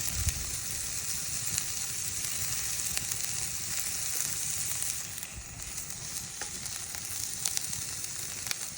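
Red onion, yellow and orange peppers and broccoli pieces frying in a pan over an open fire on a grid holder, giving a steady, loud sizzle with crackles all through and no voices.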